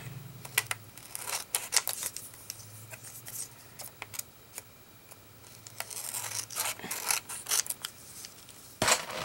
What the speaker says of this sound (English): you're going to trim off the excess right around the edge using your cardstock as a guide